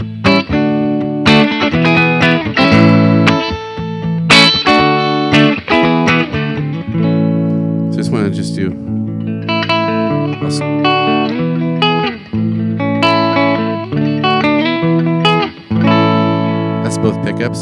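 A Squier Mustang electric guitar plays a run of clean, ringing notes and chords, close and clear, with brief pauses between phrases.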